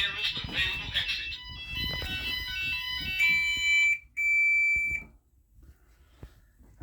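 A GENT Vigilon fire alarm system sounds a loud electronic alarm tone with a recorded voice announcement over it, then the tone cuts off and a short sustained beep follows before quiet.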